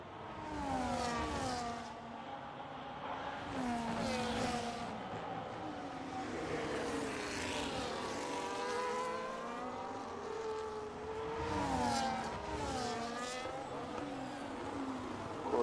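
A Renault-engined racing car screams at full revs during a race in Japan, its high engine whine rising and falling in sweeping pitch changes as it passes, moderately loud with no talk.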